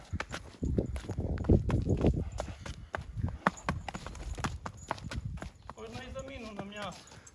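A grey horse offered for sale walks along, hooves clip-clopping in a steady rhythm at close range, heard beneath ongoing conversation between people nearby.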